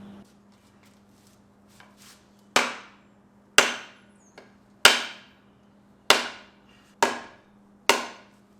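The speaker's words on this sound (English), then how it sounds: "give it a couple good whacks to drive that handle into the head" A hammer strikes the end of a wooden handle to drive a restored sledgehammer head onto it, giving six loud, sharp, evenly spaced whacks, each ringing briefly before it decays, with a few faint taps beforehand.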